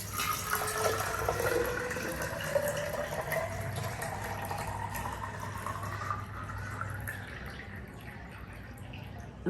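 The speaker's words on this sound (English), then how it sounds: "So I'm going to fill this water in the cylinder" Water poured steadily into a cylinder at room temperature, a continuous filling rush with a rising tone as the vessel fills, close and fairly quiet, no talk.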